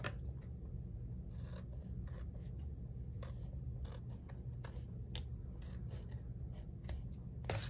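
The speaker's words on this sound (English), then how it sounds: "I may need to trim a little bit, let me see." Scissors trim paper for a handmade envelope folio, with a quick series of faint, crisp snips and rustling scrapes spaced irregularly, close by in a quiet room.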